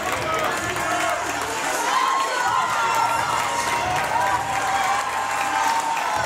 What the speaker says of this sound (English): And they are feeling the love from the crowd right now.